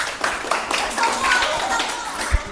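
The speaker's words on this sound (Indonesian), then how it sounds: "Beri aplaus untuk kelompok 4." Classroom of middle-school students applauding a group after a science lesson, a dense burst of clapping at close range that lasts the whole stretch, with speech mixed in.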